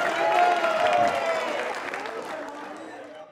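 An audience at a quiz show claps for a contestant, a moderately loud burst of applause that gradually fades, with some crowd murmur beneath.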